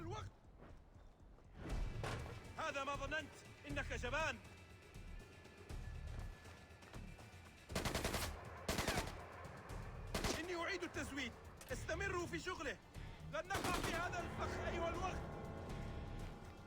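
Enemy gunfire in Splinter Cell Conviction: scattered loud shots and bursts hit in clusters between quieter stretches, mixed with game effects and a voice talking over them.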